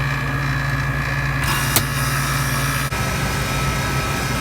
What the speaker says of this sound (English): Let's go ahead and hit the switch and we'll start it back on its cooling mode.